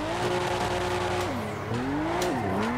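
A car drifts on the e-brake in the GTA video game, its engine note rising and falling over a constant loud roar. Tire squeal and skidding cut in as the revs drop and climb again.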